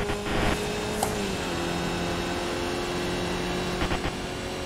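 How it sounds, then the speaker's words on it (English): A Skip Barber race car engine at Sebring holds a faint, steady drone with a slight pitch shift, low in level throughout. "Turn the engine up."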